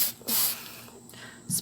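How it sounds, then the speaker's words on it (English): Shoe cleaning spray hisses from a bottle onto shoes in two or three short, soft bursts, quiet and close, with brief pauses between them. "I like to spray it a little bit from afar"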